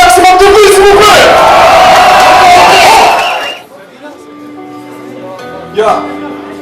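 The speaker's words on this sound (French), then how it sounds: "Faites-leur un maximum de bruit s'il vous plaît." At an open mic rap event, a dense crowd cheers and shouts loudly for several seconds, then the roar drops away to quieter murmurs and a brief yell, with music underneath.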